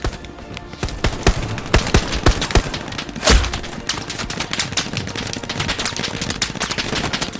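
Rapid, loud gunfire rattles in the World War II shooter Hell Let Loose: dense automatic bursts and single shots overlap into a sustained fusillade, with one heavier blast near the middle and no voices.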